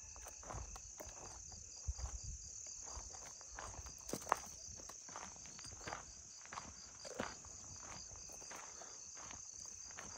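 Insects swarm and chirp around lights at night in an abandoned village, a faint steady high buzz with scattered soft ticks and taps, no voices.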